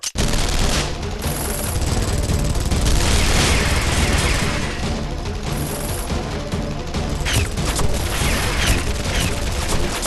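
Gunfire in a Guilty Gear Strive story mode cutscene, a loud sustained fusillade of rapid shots and booms running throughout, dense and close with no pauses.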